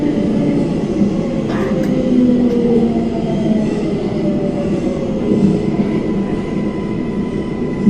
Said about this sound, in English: The subway is traveling to your left.